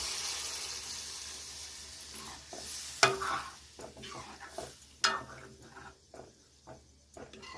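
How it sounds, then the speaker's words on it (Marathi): Water is poured into a pan of egg curry masala seasoned with turmeric and salt, giving a soft splash and sizzle followed by faint stirring and liquid patter, close by and fairly quiet, with no talking. "आता आपण ह्याच्यात पाणी टाकूया."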